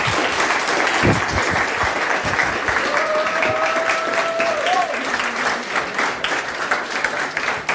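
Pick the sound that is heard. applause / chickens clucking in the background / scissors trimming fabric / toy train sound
applause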